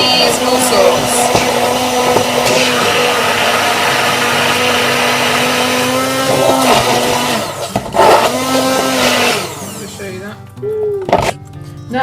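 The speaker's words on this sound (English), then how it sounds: "So we're going to puree the avocado with some natural yogurt. Yeah, I recommend getting a hand blender" Hand blender purées avocado with natural yogurt, a loud, continuous motor whine and churn that holds steady for about ten seconds before easing and cutting out near the end.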